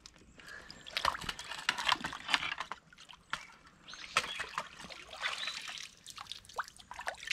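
River water trickles and splashes through a mesh net in irregular bursts, with light sloshing and dribbling close by, no voices.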